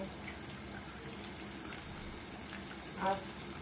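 Flour-coated chicken frying in oil in a frying pan gives a low, steady sizzle throughout, with a brief louder clatter near the end.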